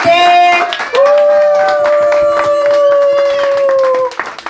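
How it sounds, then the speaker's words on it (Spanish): A gathering of people claps in applause at a family event. Scattered hand claps run beneath a loud, sustained whoop or whistle held for several seconds before it cuts off. "un aplauso para Wilder que está acá presente"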